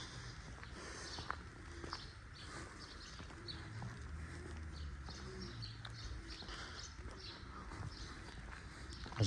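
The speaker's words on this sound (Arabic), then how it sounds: "صوت عصافير كمان." Small birds chirp faintly in a quiet treed residential area with old trees and apartment buildings, with scattered short tweets over a soft outdoor background.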